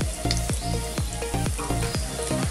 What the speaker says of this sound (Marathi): आता छान सोनेरी रंग येईपर्यंत वडा भाजून घ्यायचा